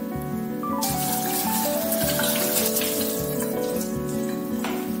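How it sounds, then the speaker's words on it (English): Steady running water from a tap splashes continuously over eggplant being washed, with faint clinks and scraping over the constant flow. "If we wash eggplant,"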